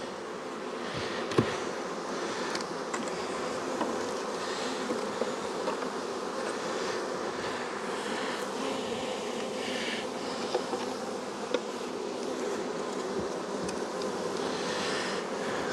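Honey bees buzz steadily at a hive in a main apiary yard while supers are added, a dense, continuous close-up drone with a few small knocks and no voices.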